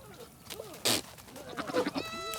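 Goats bleat and call in short, wavering cries, including a billy goat in heat, with one loud burst in the middle and fainter calls around it.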